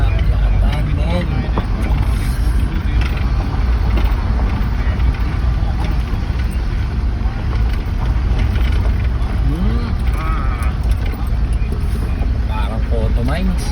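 A vehicle grinds uphill along a rough road near Antipolo, its engine a steady low drone with scattered bumps and rattles throughout, while people talk over it.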